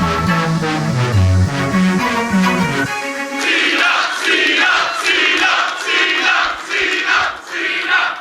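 A loud crowd roars and cheers continuously at a fan convention panel with John Cena, with music fading out early and the noise of many voices swelling throughout.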